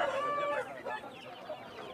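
An Aseel rooster at a rural poultry market in Balrampur, West Bengal, giving a short run of close, fairly loud clucks and throaty calls over faint market background.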